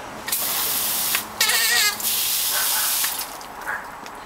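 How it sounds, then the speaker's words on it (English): Water sprays and hisses steadily onto soil while repotting a prostrata juniper, with a brief gurgling splash midway; no talking. "then we'll water it a little more."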